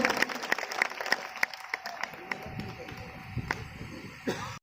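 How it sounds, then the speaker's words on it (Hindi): Hall audience applauding at a political gathering, scattered sharp claps at first that thin into a looser, uneven patter, with a faint steady tone and some voices underneath. "एक बार जोरदार तालियां पूरे सदन से।"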